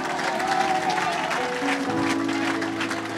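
Church congregation applauding together to acclaim the Lord, a dense, steady wash of clapping with singing or musical tones running underneath, loud and close throughout.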